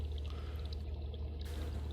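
Water flowing from a stream into a pond, heard underwater as a steady low rushing wash with faint trickling, continuous throughout.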